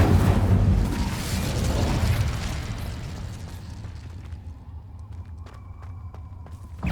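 The Incendio fire spell is cast in Hogwarts Legacy, letting out a loud, rumbling burst of flame that roars at the start, then fades into a softer crackle with small clicks and game effects.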